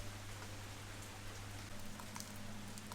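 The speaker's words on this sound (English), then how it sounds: "It's raining." Steady rain falling on Koh Phangan, Thailand, a soft continuous patter with occasional distinct drips over a low background hum.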